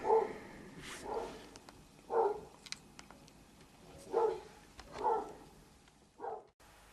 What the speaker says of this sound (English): I hope you can't hear the dog what's currently going off